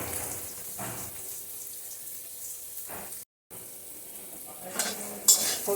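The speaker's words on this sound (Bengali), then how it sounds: "নুন হলুদ দিয়ে ভেজে নিচ্ছি।" Ingredients are being fried with salt and turmeric in a pan while cooking a sour jujube (boroi) dish. A soft, steady sizzle plays close by under occasional scraping stirs, with a brief dropout midway.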